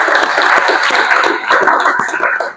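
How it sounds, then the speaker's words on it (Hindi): Loud audience clapping during an Engineers' Day lecture in a hall, a fast, dense patter of many hands that continues steadily and tapers slightly at the end. "एक बार इसके लिए जोरदार तालियां।"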